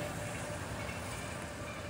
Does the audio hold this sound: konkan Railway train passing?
yes